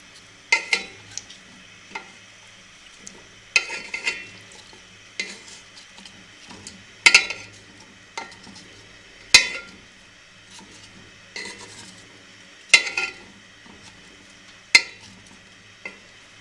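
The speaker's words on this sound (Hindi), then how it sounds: "अब हम गाजरों को पलटे की मदद से ऊपर नीचे करेंगे ताकि इनमें अच्छी तरह" Carrots being turned over with a spatula in sticky sugar syrup for a carrot murabba, giving soft, irregular stirring clinks and scrapes with a gentle sizzle, close and fairly quiet.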